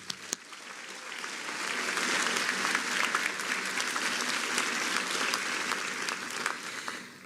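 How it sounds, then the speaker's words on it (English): Audience applause fills a commencement ceremony hall, a dense steady clapping from a large crowd that swells in the first seconds and holds at full strength throughout. "So let's give them a round of applause."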